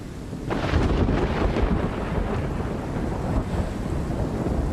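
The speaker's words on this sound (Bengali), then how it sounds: "প্রথমে শোঁ শোঁ শব্দে প্রচণ্ড বাতাস বইতে লাগলো, আর তারপর তা মারাত্মক ঝড়ের রূপ নিল।" A storm sound effect of roaring, howling wind and heavy rumbling thunder swells to a loud peak early on and then rolls on as a dense, continuous wash, with no voices.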